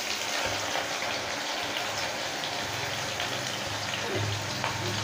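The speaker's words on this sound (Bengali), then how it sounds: "এবার তেলের মধ্যে দিয়ে দেব 3টে বড় সাইজের পেঁয়াজ, এখানে কুচিয়ে রেখেছি সেটাই আমি দিয়ে দেব।" Three large chopped onions hitting hot oil in a pan for a chicken kasha, giving a steady, loud, broadband sizzle that runs unbroken and close throughout with no talk.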